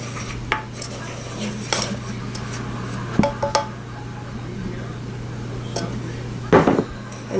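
A spoon stirs powdered sugar into butter frosting for a chunky apple cake, with soft scraping and intermittent clinks against a bowl over a low steady hum, near and moderately loud, in a few irregular bursts.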